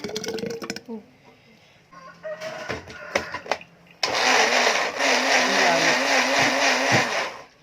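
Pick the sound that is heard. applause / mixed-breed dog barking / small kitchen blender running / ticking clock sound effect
small kitchen blender running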